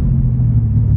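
A 2016 Corvette Stingray Z06 engine rumbles low and steady up close, a deep continuous idle with a slight rise as it is revved gently, with no talking over it.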